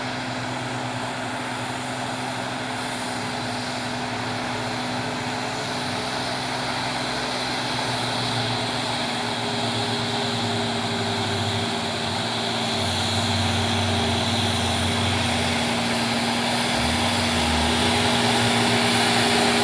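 A heavy trailer truck engine drones steadily and loudly, laboring up the steep Bukit Kodok hill with a deep rumble that grows slightly louder over time, with no voices.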